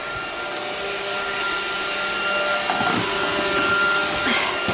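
An iRobot Roomba robot vacuum cleans a kitchen floor, its steady whirring motor and brush hum close by and continuous, with faint rattles and bumps as it moves along.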